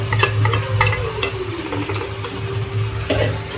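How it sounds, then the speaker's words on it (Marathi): Ground spice paste for a tilapia fish curry sautés in hot oil, giving a steady close sizzle with light stirring scrapes throughout. "वाटण छान तेलावर परतून घ्या"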